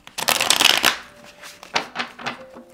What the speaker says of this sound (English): let's just shuffle them this way, and then we'll just go from there.